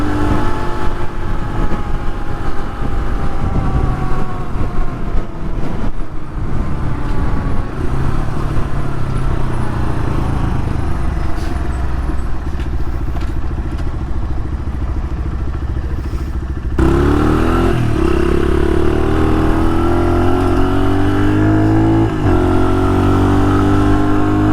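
Street-legal dirt bike on knobby tires, freshly rebuilt top end, engine roaring loud and close, revving up and down through gear changes with a sharp shift in pitch partway through, mechanical clatter underneath.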